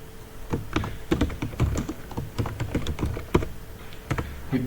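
Rapid, uneven keystrokes clatter on a computer keyboard during invoice data entry, coming in short bursts and single taps at close range with no voices.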